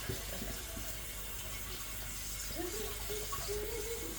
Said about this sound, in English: I'm just sort of rinsing that before it goes all yuck.